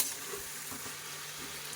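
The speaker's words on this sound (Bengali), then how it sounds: "কাঁচা এই যে লবণ হলুদ আর কাঁচা লঙ্কা দিয়ে দিয়েছি ভালো করে ভাজা হোক" Vegetables fry in a pan with salt, turmeric and green chilli, giving a steady, soft sizzle with faint stirring scrapes throughout, close by and fairly quiet, with no talking.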